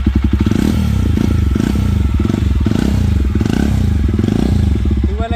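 A Jawa Bobber 42 with a 334cc engine and dual exhaust idles loud and close, a deep steady thumping beat with slight rises and dips in pitch, no voices over it.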